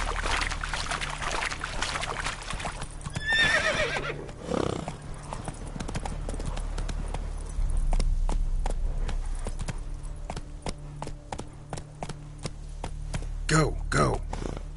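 Hoofbeats of the horse Roach in the Witcher 3 game ring out as steady clip-clop galloping throughout, with a couple of short whinnies and neighs breaking in near the start and again toward the end.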